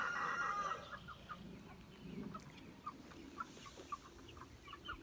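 Young meat chickens about four and a half weeks old, plump and gaining weight, cluck in short repeated calls at a moderate distance, with a louder burst at the start and soft bustling underneath.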